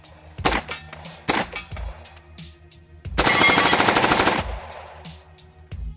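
A UMP submachine gun, as featured in Free Fire, fires in real life: two short bursts followed by a longer sustained automatic burst, loud and close with sharp reports and a brief ringing tail.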